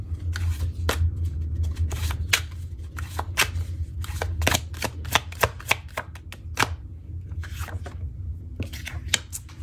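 Tarot cards are shuffled and drawn by hand during a reading, giving close, crisp riffles and sharp flicks and snaps scattered over a soft background hum, with no talking.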